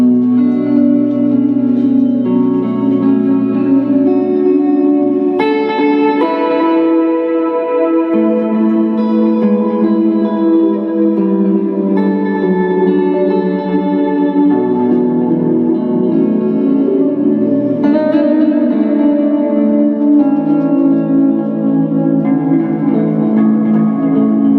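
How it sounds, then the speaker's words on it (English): An electric guitar plays clean sustained notes and chords through a Line 6 HX Effects multi-effects pedal, with lush delay repeats and reverb trails blending into a continuous, even wash, with no talking. "just the delays and reverbs and the amount of sounds"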